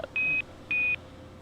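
Two steady electronic beeps, each about a quarter second long, with a short gap between them, over faint background hiss; a radio push-to-talk tone from a keyed microphone.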